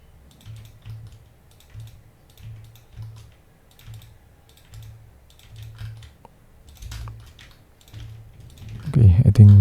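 Computer keyboard typed at a moderate pace with a steady run of key taps, ending in a louder clatter as a control shortcut is pressed.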